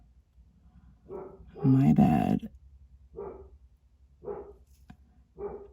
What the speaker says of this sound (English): Oh, sorry. Dog barking.